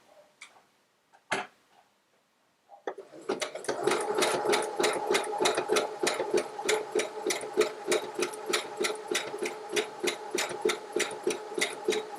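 A sewing machine stitches slowly down the edge of fabric for a baby name block, after a few faint clicks and a brief silence, then running steadily with a fast, even mechanical ticking rhythm close up.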